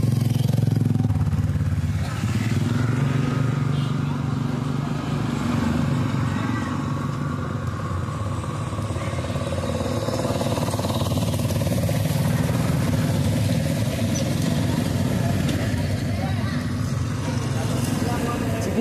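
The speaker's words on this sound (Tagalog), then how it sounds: "Ang ganda rin ng motor ni ate, ah." A motorcycle engine drones steadily while riding through a town in Davao del Sur, with road rumble and rattling throughout and people talking over it.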